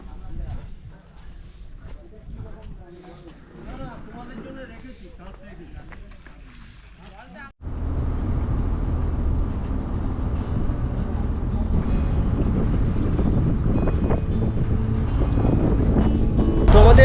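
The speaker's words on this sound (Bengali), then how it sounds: "তো আমাদের বোট ছেড়ে দিয়েছে, আমরা জঙ্গলের আরও গভীরে যাব।" A boat pulls away into the Sundarbans forest; a voice is heard at first over light background noise, then a loud, steady engine rumble with wind noise starts suddenly and continues to the end.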